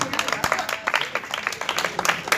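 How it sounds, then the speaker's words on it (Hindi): A crowd at an outdoor Buddhist initiation and lamp-lighting ceremony claps in a lively, uneven patter of many hands, fairly close and sustained. "एक बार जोरदार तालियां।"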